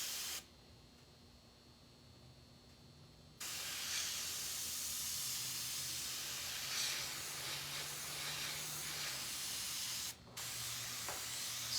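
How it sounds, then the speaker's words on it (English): An airbrush gun sprays paint onto a hoodie in a close, steady pressurized hiss that runs for several seconds, drops out briefly, then resumes, over a faint background hum. "once I got an airbrush gun and I started playing with it"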